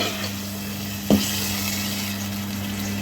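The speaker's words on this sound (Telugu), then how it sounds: "ఆయిల్ కాగేటైతే మనం మసాలాలో నానబెట్టుకున్న ఈ రొయ్యలు అయితే వేసుకొని కొంచెం ఉడికించుకోవాలన్నమాట" Marinated prawns dropped into hot oil for a prawn biryani, giving a steady soft sizzle with a low hum beneath and one brief clunk partway through, no talking.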